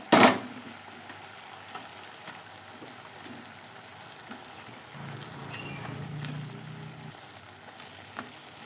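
Giant freshwater prawns drop into a hot frying pan for a malai curry with a sudden loud hiss, then settle into a steady, soft crackling sizzle with no one talking.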